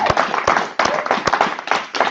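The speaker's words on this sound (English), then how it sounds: "A round of applause throughout for the the Z team." A group claps for a team, a fast close burst of overlapping hand claps that stays steady and loud through the whole stretch with no voices over it.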